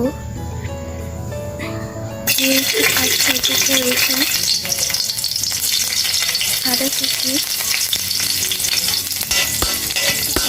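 Oil sizzles and fries loudly in a wok while chicken soup is being started, a steady crackling hiss that jumps up sharply after about two seconds and continues without talk.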